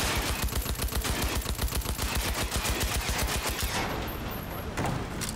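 Rapid automatic fire from an assault rifle in the video game Cyberpunk 2077, a loud continuous burst of closely spaced shots for about four seconds before tapering into ambient noise.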